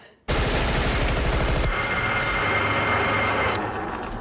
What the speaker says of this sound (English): There's something haunting about the whirring of the gun with no bullets.